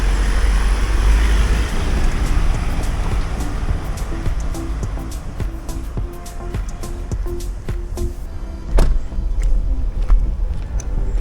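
A car climbs a steep mountain road in the Douro Valley, its engine droning steadily under road and wind noise, with occasional sharp knocks and rattles from inside the cabin.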